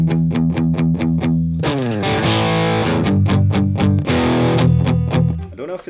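Crunchy, distorted electric guitar through an Orange OR15 tube amp and a 12-inch Celestion V30 speaker: a run of short choppy chords, then full ringing strums, loud and close.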